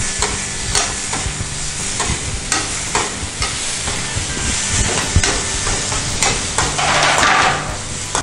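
Onion and tomato fry in a pan for a stuffed brinjal masala. Constant close sizzle and hiss carry repeated clacks of a spoon stirring against the pan, and a louder steamy burst comes near the end.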